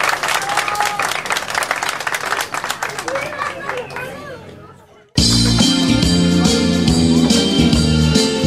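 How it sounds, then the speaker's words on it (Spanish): Audience applause at a school pastorela in San Antonio de la Laguna, Durango: steady clapping from a crowd for about five seconds, fading out, then cut abruptly to loud festive music. "Brindémosles un fuerte aplauso."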